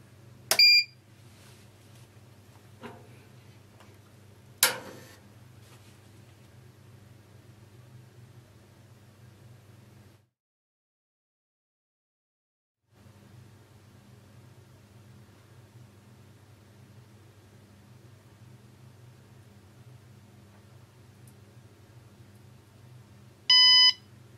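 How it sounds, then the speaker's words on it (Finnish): Baiway TF03K battery monitor alarm beeping as the battery capacity drops under a 700-watt load: short, sharp electronic beep bursts at the start, around five seconds and at the very end, over a steady low hum with a brief silent gap. "Ja näin sitten alkoi laite piippaamaan, kun kapasiteetti putosi tuonne 99 amperituntia."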